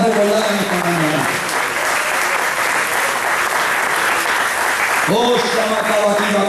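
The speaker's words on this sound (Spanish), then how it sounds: "Den un aplauso a Dios que te lo está recordando en esta mañana." A church congregation bursts into sustained, loud applause at a Sunday morning service; a preacher's voice is heard at the start and again near the end.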